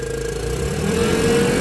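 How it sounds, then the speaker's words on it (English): A Komatsu forklift with a loss-of-power-under-load fault runs its engine from idle, with a steady mid-pitched hum and whine edging slightly higher over a brief stretch. "Okay, running at idle, we're going to increase the RPM"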